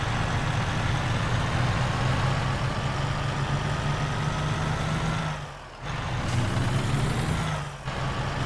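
A heavy truck in American Truck Simulator, driven on snowy roads with an automatic transmission, drones with a loud, steady low engine roar that holds throughout, dipping briefly twice as the power changes.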